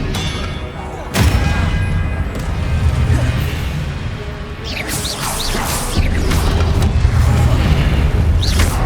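Spell-casting effects from Hogwarts Legacy: heavy booming magical blasts and crackling impacts roll through a loud, continuous mix of combat sounds, with a fresh surge of whooshing energy midway.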